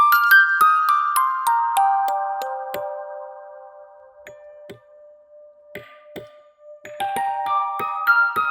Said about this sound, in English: Some nice music box stuff.